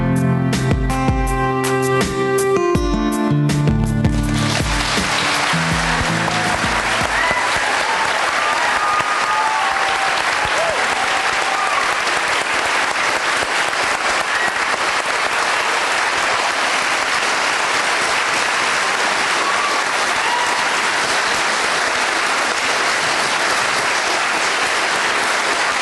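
An audience bursts into sustained applause and clapping after a song at a live stage show, following the last sung notes; dense, loud clapping rolls on steadily for over twenty seconds.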